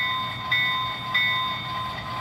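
Model train locomotive sound effects played through an ESU DCC decoder, a thin, steady mechanical hum with faint clicking pulses, quiet and brief, no voices.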